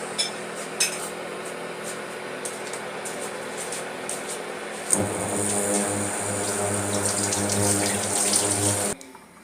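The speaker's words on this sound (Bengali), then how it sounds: "তো আমি একটি কাপ নিয়ে নিচ্ছি, এখানে আমি কফিটি ঢেলে নিব।" Freshly boiled coffee is poured from a pot into a cup: a few light knocks, then a steady splashing stream lasting about four seconds that stops abruptly.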